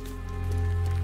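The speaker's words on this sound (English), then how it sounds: "Of course it's fucking raining." Steady rain falls in the video game Teardown, a constant wash of patter heard alone over a low hum throughout the short moment.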